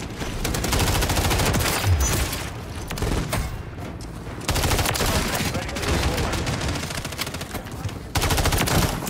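Dense, loud automatic gunfire from an MTZ 556 rifle in Call of Duty Modern Warfare 3, long rapid bursts broken by brief pauses, close and dominating.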